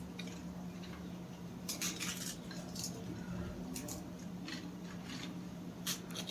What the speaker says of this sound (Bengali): এদিকে দেখুন সেই ভাজা পাঁপড়গুলো এখন এইভাবে হাত দিয়ে ভেঙে নেব।